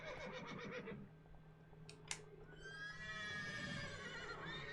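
Roach the horse lets out a long, loud whinny in the video game The Witcher 3, preceded by a few hoof clops and a sharp click, with faint ambience behind.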